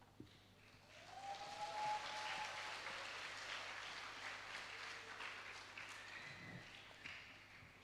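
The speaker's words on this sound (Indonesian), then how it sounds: "Berikan tepuk tangan yang meriah Amang Inang." Audience applauding in a hall during a music performance, a dense patter of clapping that swells in the first seconds and then holds steady, heard from within the crowd and fairly quiet overall.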